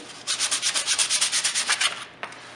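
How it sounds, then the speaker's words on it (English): Wood is sanded by hand with 100 grit sandpaper while a serving tray kit is assembled: about fifteen quick, even back-and-forth rasping strokes, close and loud, then a pause and one short final scrape. "the 100 grit sands fast, but it doesn't leave it as smooth"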